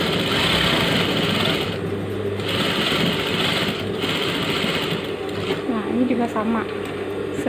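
A sewing machine stitches a shirt collar with a fast, steady mechanical whirr, close by and running almost continuously with brief slowdowns, while a person talks over it.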